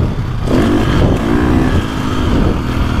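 A KTM dirt bike, either a 450 Factory Edition or a 350 XCF, revs hard while being ridden, its engine note climbing sharply, then holding a loud, raspy, fluctuating roar close by.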